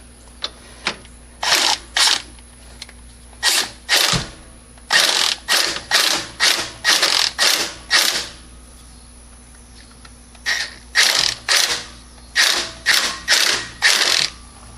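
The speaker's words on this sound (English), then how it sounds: "And then we're going to torque it to spec." Ratchet wrench torquing a lower motor mount bolt on a Chrysler PT Cruiser: close, loud bursts of rapid clicking in short strokes, repeated many times with brief pauses between.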